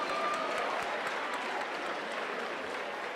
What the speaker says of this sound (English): Let's give another round of applause for Ms.